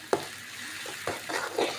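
Chopped onion goes into a hot pan for gobi manchurian, giving a soft continuous sizzle with a few sharp spoon-against-pan scrapes and stirs, close and moderately loud, no voices.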